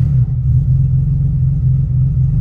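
A car engine, just reflashed with an EcuTek tune, idles with a steady, deep, close-up rumble that holds without any revving or speech.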